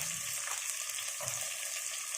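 Cinnamon, cloves and green chilies frying in oil in a pan for prawn biryani, a steady close-up sizzle with faint stirring and no talk.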